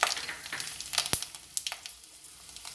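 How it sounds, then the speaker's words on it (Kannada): Mustard seeds and dried red chilies frying in hot oil, a loud crackling sizzle with sharp pops and spits that gradually settle to a softer hiss. "ಈಗ ನಾನು ಸಾಸಿವೆ ಮತ್ತು ಒಣಮೆಣಸಿನ್ಕಾಯಿ ಹಾಕ್ಕೊತಾ ಇದ್ದೀನಿ"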